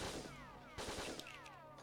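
Gunshots from the Operation Winback video game come as soft, distant bursts over a busy game soundscape of descending electronic tones, with a couple of sharper shots standing out.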